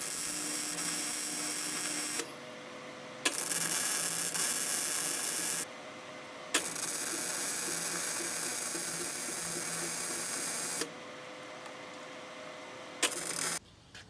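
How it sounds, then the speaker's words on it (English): Snap-on welder welding on a car, a loud harsh buzzing crackle in several bursts of a few seconds each, separated by brief quieter gaps, close up. "we got our handy dandy snap-on welder here. I'm gonna fire her up"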